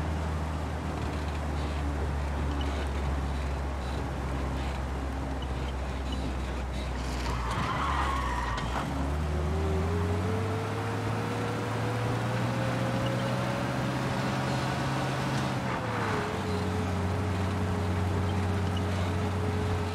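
Car driving in Mafia: Definitive Edition, a steady engine drone that rises in pitch as it accelerates, with tire skids, continuous and fairly loud throughout.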